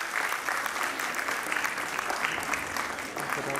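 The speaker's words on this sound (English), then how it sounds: "Yes, you can clap for your teacher, Navneeta." Applause from an audience at a college fashion show event, a steady dense wash of clapping held throughout at moderate distance, filling the room without a break.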